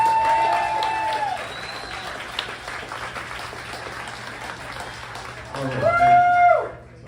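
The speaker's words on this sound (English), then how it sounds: "Please give him a round of applause." An audience gives a round of applause at a community event, the clapping steady under someone talking into a microphone, with a louder swell near the end.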